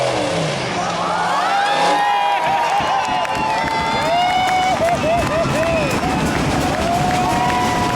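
A large crowd cheers and roars at a monster truck show as a five-ton truck lands a huge jump, loud and continuous, with engine revving mixed in throughout.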